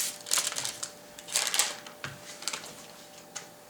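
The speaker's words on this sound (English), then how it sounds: "We've got 1/2 a cup of butter. And I'm just going to cut this up in little chunks." A knife chopping half a cup of room-temperature salted butter into small chunks, giving soft repeated taps and clicks on a board in uneven bursts, close and fairly quiet.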